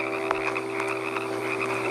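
An adult toad croaks at a pond during the spring mating season, a steady trilling call repeating with short pulses, close and loud, with no one speaking.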